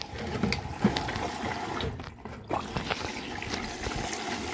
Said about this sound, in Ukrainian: Водичка набирається туди-сюди.